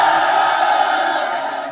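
A large Davao crowd at a live battle-rap event cheers and shouts in a loud, dense, sustained roar that fills the space and fades only slightly toward the end.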